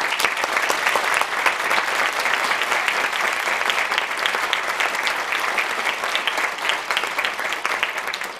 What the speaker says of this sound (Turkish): En güçlü alkışlarız onlara.